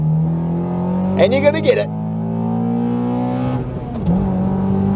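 A Honda car engine climbs in revs into VTEC, a strong rising tone that swells and settles while someone talks over it in a short burst near the start.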